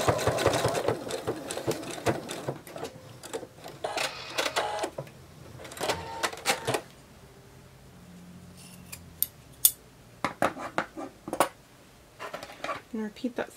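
A sewing machine stitches a penguin plush in quick, close bursts of rapid needle clatter, broken by pauses and a few handling sounds.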